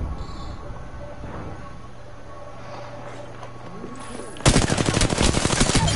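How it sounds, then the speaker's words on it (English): Video game gunfire bursts out loud and dense after a stretch of quieter game ambience, a rapid rattling volley in the final second and a half. "Oh, they're shooting someone else."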